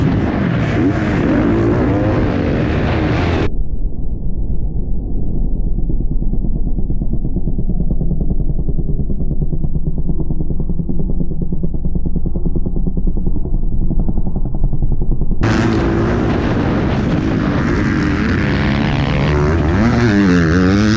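A new motorcycle engine runs steadily and loud up close, a continuous throbbing drone whose tone changes partway through.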